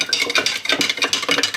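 A stainless steel spoon stirring lye solution into coconut oil for homemade laundry detergent, quick rhythmic clinking and scraping strokes against the container, close and fairly loud.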